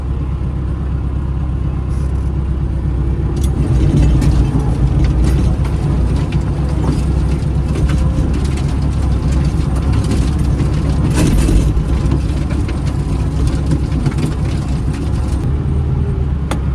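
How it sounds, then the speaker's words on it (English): A farm tractor drives a rotivator through soil during tillage, its engine droning loud and steady throughout with faint mechanical rattles, no talking. "I'll keep the rotivator on this tractor"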